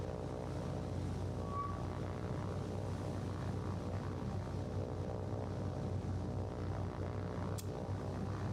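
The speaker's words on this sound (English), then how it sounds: "Alright, so Dauntless, can you finish the enemy destroyer off all by yourself? Just one lone dive bomber." Dauntless dive bomber in the naval video game War on the Sea, a steady droning propeller engine hum that holds at an even level, with no voices over it.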